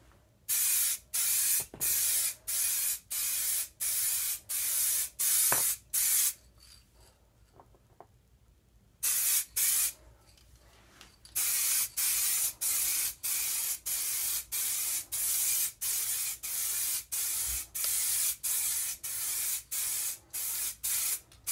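A spray can sprays paint onto a metal miniature in short, repeated hissing bursts of about a second each, close and loud, with a brief quiet pause midway before the rhythmic spraying resumes.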